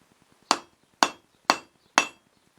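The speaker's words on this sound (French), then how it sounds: "on va venir taper avec le marteau" A hammer strikes a steel bar held at an upward angle on the end of an anvil while a crossbow bolt is being forged. Four loud, ringing blows land at an even, unhurried pace, each one fading quickly.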